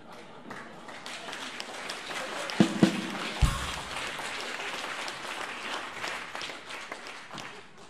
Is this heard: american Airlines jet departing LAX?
no